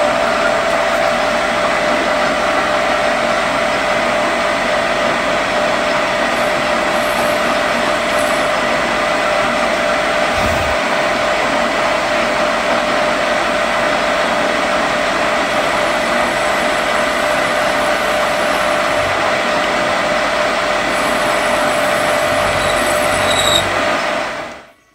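A metal lathe spinning in reverse with an upside-down cutting tool while threading, a loud, steady whirring drone that runs unbroken for about twenty-five seconds before cutting off abruptly at the end.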